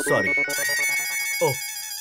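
An electronic phone ringtone plays a short melodic pattern of bright tones, loud and close, overlapping a brief burst of voice.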